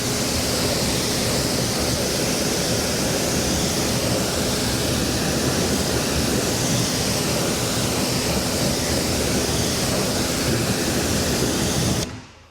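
Steady, loud rush of water spraying over a car wheel during rinsing, continuous hiss with no break until it cuts off at the very end.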